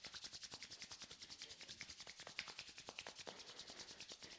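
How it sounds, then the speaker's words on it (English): Palms rubbing briskly together in a steady back-and-forth rhythm, a soft, close, papery swishing repeated evenly throughout with no voices. "rubbing your palms together"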